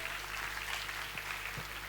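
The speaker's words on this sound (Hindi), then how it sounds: "एक बार जोरदार तालियां बजाएं जी को लिए" Applause from the crowd at Ramaera Industries Ltd's first anniversary event in Patna, a steady wash of many hands clapping at once in a large hall, moderately loud and continuous with no voices over it.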